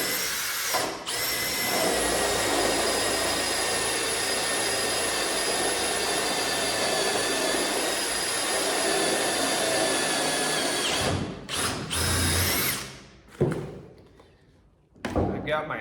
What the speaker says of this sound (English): we'll go ahead and start drilling some holes and putting some screws in